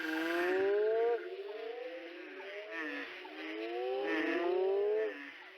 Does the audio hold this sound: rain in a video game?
no